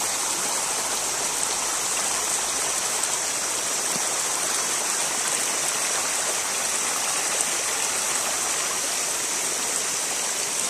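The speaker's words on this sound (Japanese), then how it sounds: "せせらぎの音" A babbling stream flows in a natural setting, a steady, close, bright rush of water that stays even and continuous from start to finish.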